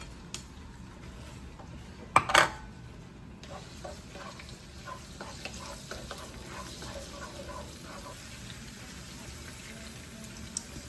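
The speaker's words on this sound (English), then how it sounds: "let's start sauteing here. Just a little bit of olive oil. Saute our garlic." Garlic sautéing in a little olive oil in a pan gives a faint, steady sizzle, broken by a sharp clatter of utensil on pan around two seconds in and a few lighter scrapes afterward.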